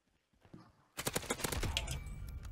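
Gunfire in a laggy online video game shooter: a quiet start, then a dense burst of rapid shots from about one second on, loud and continuous to the end, with no talk over it.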